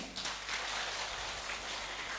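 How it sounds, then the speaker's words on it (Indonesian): Audience applause at an Islamic study gathering, a soft steady patter of many hands clapping, distant and faint, continuing evenly throughout without talk. "boleh tepuk tangan"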